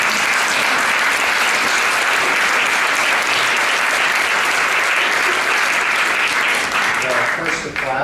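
Sustained, loud audience applause at a health policy talk by the director of Ohio's Governor's Office of Health Transformation, dense clapping throughout that thins near the end as a voice comes in.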